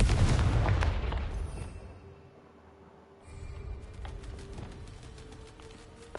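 A Confringo fire curse in the video game Hogwarts Legacy lands with a loud, booming blast that fades over a couple of seconds, followed by a lower rumble and scattered crackles.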